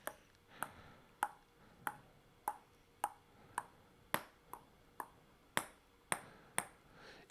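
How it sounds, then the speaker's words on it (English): A very light ping pong ball strikes about a dozen times in a quick, even rhythm, each hit a faint, sharp tap with a short ring. The hits sound close and isolated, with no other sounds around them. "So it's a very light ping pong hit."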